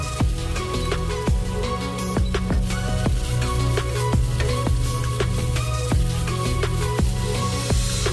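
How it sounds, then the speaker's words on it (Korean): Fish cake stir-fried on high heat in a pan with its own oil gives a steady close sizzle, broken by frequent sharp clicks and scrapes of a utensil against the pan. "센 불에다가 달달달 볶아줄게요."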